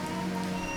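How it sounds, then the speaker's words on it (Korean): Steady rain patters on a surface, a dense, even hiss of falling drops with no voices. "빗방울이 떨어지는 소리까지도"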